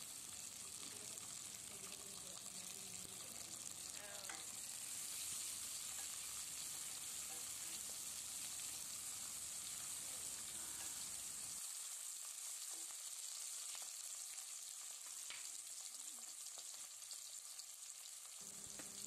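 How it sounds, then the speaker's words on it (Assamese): Sliced onion and small chopped tomato frying in a pan, a continuous bright sizzle with occasional stirring scrapes, steady and close, with no talking. "এতিয়া মই এইখিনি ৰঙচুৱা হোৱালৈকে ভালকৈ ভাজি ল'ম।"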